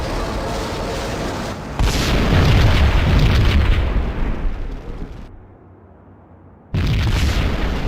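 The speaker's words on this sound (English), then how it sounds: "Another bomb exploded inside the closest slum building" A bomb bursts inside a slum building in Max Payne, a heavy booming blast that rumbles and decays over several seconds, drops to near silence, then returns with loud ambient roar.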